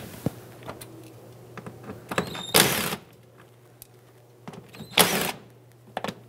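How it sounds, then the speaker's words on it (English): A power tool whirs in two brief bursts as T20 Torx screws are backed out of a 2013-2020 Nissan Pathfinder bumper cover near the fender liner, with scattered clicks and handling noises between them and no talk. "Let's remove all three of these."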